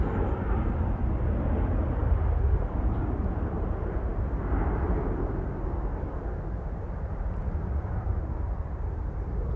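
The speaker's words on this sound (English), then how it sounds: "love the noise of those A330s" Airbus A330 airliner jet engines at Manchester Airport, a deep, continuous broadband roar with heavy low rumble, close and powerful, holding steady throughout.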